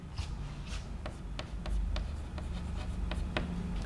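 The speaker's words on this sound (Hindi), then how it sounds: "हेमीस्फीयर भी लिख लेते हैं साहब" Marker or chalk strokes on a board during a maths lecture on hemispheres and derivatives, a series of short, crisp taps and squeaks in uneven rhythm over a low room hum, close and fairly quiet, with no talking.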